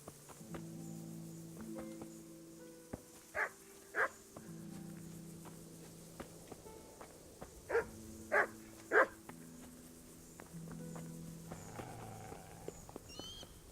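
Dog barking in the medieval video game Kingdom Come: Deliverance, several sharp barks in two clusters amid hoofbeats, footsteps and a soft musical backdrop.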